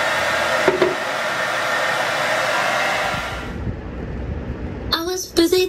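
A hair dryer fitted with a diffuser blows in a loud, steady whoosh while drying hair, then cuts off, and a singing voice follows.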